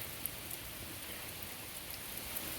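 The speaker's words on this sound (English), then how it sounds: "Here comes the rain." Light rain beginning to fall outdoors by a garden bed, a soft even patter of drops with a few sharper taps, faint and steady.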